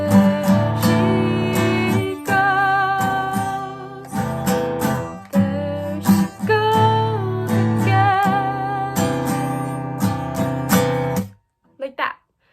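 An acoustic guitar strums the chord pattern of a song in a simple, steady rhythm of bright chord strokes, close and loud, with a voice sounding along, before it stops and a few last notes ring out.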